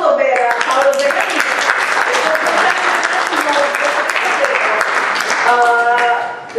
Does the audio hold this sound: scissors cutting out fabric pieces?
no